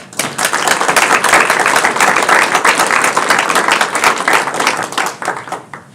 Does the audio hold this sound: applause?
yes